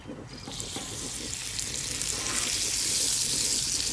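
Butter melts with a loud, crackling sizzle on a hot Blackstone griddle, close and building steadily, with no talk.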